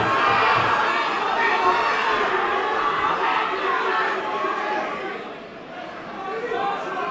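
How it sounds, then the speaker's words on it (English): A fight-night crowd roars and cheers after a spinning back kick lands, a loud swelling wall of voices that dips slightly before rising again, with a commentator talking over it. "it lands as the crowd come alive"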